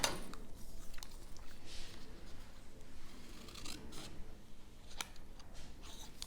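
Scissors snipping through paper or card stock during a crafting session, a series of quiet, close crisp cuts and rubbing with faint handling noise and no talking.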